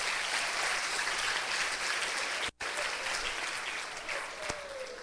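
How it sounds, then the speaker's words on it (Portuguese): A church congregation in a gallery applauds continuously, a dense roar of clapping with a brief break midway, heard at moderate level. "Ó, vamos aplaudir os irmãos lá em cima."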